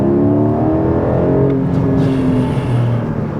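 A 2022 Porsche Cayman GTS 4.0 in Carmine red, its engine and exhaust running steadily and loudly up close, with a droning tone that shifts midway and soft crackling burbles at the back, no talking.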